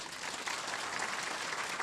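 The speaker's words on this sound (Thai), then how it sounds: "ให้ปรบมือดังๆ อย่างยาวนานเลย" A short burst of audience applause at a company event, an even wash of many hands clapping together for just under two seconds, moderately loud and with no voices over it.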